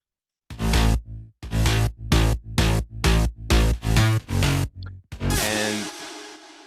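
Gritty EDM mid bass synth, built from Serum and Spire patches, pulsing in about nine loud rhythmic hits of roughly equal length with short gaps, then one longer sustained note that rings out and fades.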